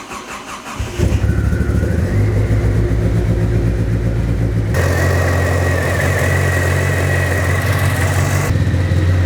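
A car engine cranks briefly, then catches and settles into a loud, close idle that runs lean and hunts unevenly, its pitch shifting partway through with no voices over it.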